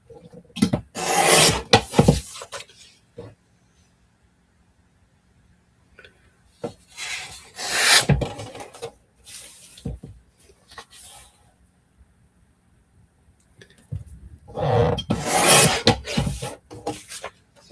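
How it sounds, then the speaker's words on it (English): A paper trimmer slicing through paper while making beach-themed notebooks, heard as several rasping, scraping strokes in separate bursts with quiet gaps between them, close up. "See, this is why I hate this trimmer."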